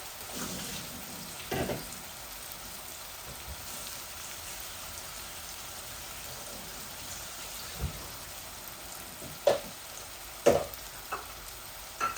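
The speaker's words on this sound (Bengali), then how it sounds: "এই মশলাগুলো একটু ভাজা ভাজা হোক" Ginger, garlic, bay leaf and whole spices fry in oil in a pan for chicken bhuna, a soft continuous sizzle with a few sharp clinks of stirring, fairly quiet and steady.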